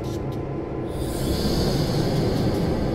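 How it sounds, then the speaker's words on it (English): A pair of EMD SD9 diesel locomotives in Train Simulator's Mount Shasta Line, working a rail yard, give a steady, loud engine rumble and rolling rail noise that holds evenly throughout with no talk. "Here, trying out the EMD SD9, got a pair of them at our disposal."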